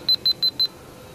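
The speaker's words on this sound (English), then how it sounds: "it beeps, and says this." Four short, shrill electronic beeps from a digital camera showing a lens error, in quick even succession, evenly spaced, then quiet.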